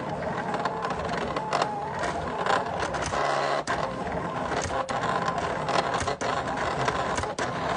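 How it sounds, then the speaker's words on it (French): A Silhouette cutting machine slices vinyl, producing a continuous whirring, buzzing motor drone with quick stepping pulses and brief clicks as the carriage moves back and forth, close and steady. "Je clique sur Envoyer dans Silhouette Studio. Et elle commence à découper."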